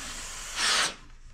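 A steam iron gives a single soft hiss of steam, lasting about a third of a second, while pressing pieced star quilt blocks. The burst stands out over a quiet room background.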